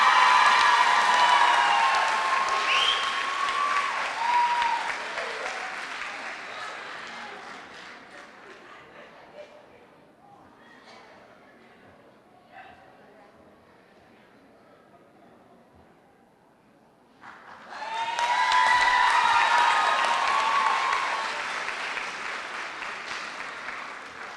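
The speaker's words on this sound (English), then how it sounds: "We can keep clapping." Commencement crowd at a 2018 UB EOC ceremony bursts into loud applause, fades to near quiet with faint murmurs midway, then erupts again into a second full round of clapping.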